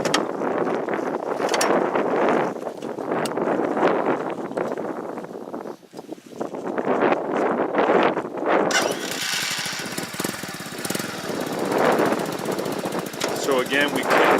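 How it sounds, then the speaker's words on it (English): Venom manual transmission motorcycle started and left running, a steady rough engine rumble that continues throughout under wind noise and someone talking. "So we're going to start the bike up, put it into first gear, and show you how to get the bike rolling."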